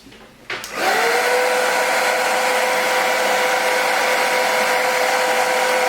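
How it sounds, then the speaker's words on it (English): A hair dryer switches on after a second and blows a curly 99J frontal wig with a loud, steady whirring roar that continues alone to the end. "Let me blow dry that real quick."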